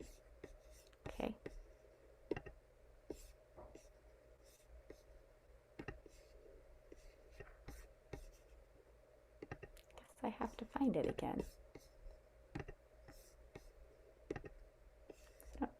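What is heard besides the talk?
computer clicking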